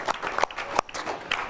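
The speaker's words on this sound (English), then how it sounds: "Another round of applause." An audience at a State of the City event applauds, loose, uneven bursts of clapping with a few louder close claps standing out, short and moderately loud.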